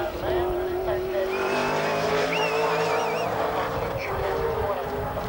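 A touring race car at the 1997 Bathurst 1000 roars past, its engine a steady loud drone with shifting pitch as it begins a flying lap, while a commentator talks over it throughout.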